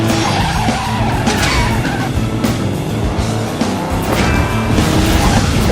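A car skids through a U-turn in the Stuntman Ignition stunt-driving game, its tires squealing loudly and continuously over a roaring engine for several seconds.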